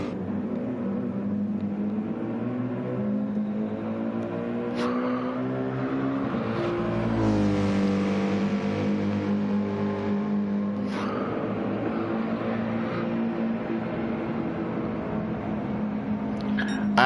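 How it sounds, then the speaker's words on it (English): In a racing video game, race car engines drone steadily as the cars run the track, with the pitch shifting as they pass through corners. A commentator's voice comes and goes over the engine noise throughout. "Rufus comes through Clum's corner for the final time."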